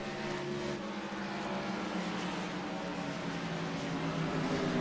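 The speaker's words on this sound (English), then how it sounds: "That's what it sounds like inside them cars with them guys." A race car engine roars from inside the cockpit during a race, a loud, steady, droning whine that holds constant throughout without a break.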